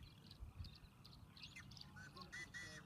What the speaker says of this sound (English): Okay, here's the yellow-headed blackbird.